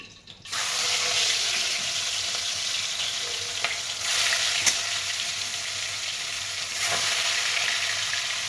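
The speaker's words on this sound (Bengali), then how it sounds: "এবার একটা একটা করে মাছ দিয়ে দিই" Bhetki fish pieces are laid one by one into hot oil already used for frying cauliflower. A sudden loud sizzle starts and then holds steady, with small surges as more pieces go in.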